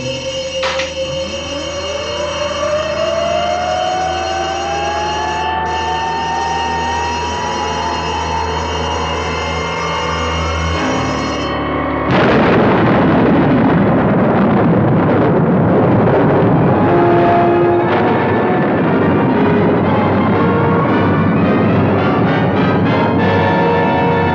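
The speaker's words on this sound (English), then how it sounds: "Gee, it sure was exciting seeing that rocket launch, Dr. Beaker." A rocket launch from a Supercar episode soundtrack: a long rising whine and hum abruptly give way to a loud, sustained roaring rumble of ignition and thrust that fills the rest of the clip.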